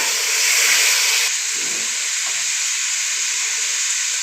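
Tomatoes hit a pan of frying chicken for Chinese rice, bringing a loud burst of sizzling and steam hiss that settles into a steadier, slightly quieter frying hiss, with no voices.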